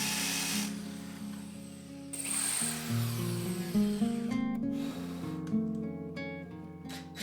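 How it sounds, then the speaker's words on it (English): A power drill whirs in bursts drilling a hole in a wall, its motor pitch shifting up and down as it bites, close and fairly loud with brief pauses. "used that to mark and drill the hole on the other side"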